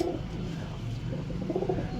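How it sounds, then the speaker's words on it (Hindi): A pigeon coos close by, soft throaty rolling calls at the start and again near the end, over a quiet low hum. "देखो ये गुटक रहा है ना, ये कबूतर है"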